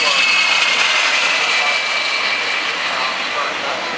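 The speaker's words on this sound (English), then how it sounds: "we've got a couple of jet blowers again coming through the area" Jet dryers blowing across the Daytona racetrack, a loud, continuous jet-engine roar with a broad hiss that stays steady and close, easing only slightly toward the end.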